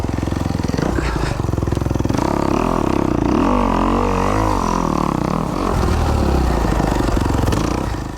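A 2021 Kawasaki KX250X dirt bike engine runs loud and close on a winter trail ride, its revs rising and falling continuously with rattling clatter from the bike throughout.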